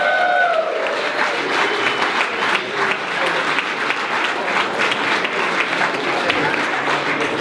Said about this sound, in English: Let's give a huge round of applause for the captain of the team